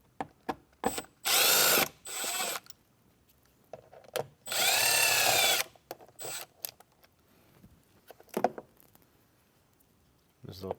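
A power drill fitted with a T20 Torx bit drives out screws on a factory speaker in a 2024 Jeep Wrangler, sounding as two loud whirring bursts of about a second each, with shorter clicks, taps and handling noises between them, close by.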